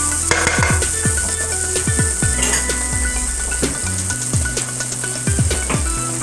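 Butter sizzling and crackling in a hot frying pan already slicked with a little olive oil, a steady hiss with scattered pops and occasional clinks of a utensil against the pan, no voices.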